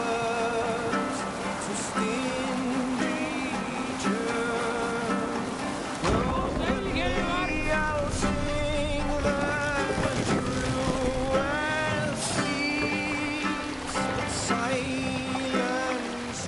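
Viking longship under sail in Assassin's Creed Valhalla, steady wind and water rushing beneath a continuous wash of ambient sound, with voices calling out over it throughout.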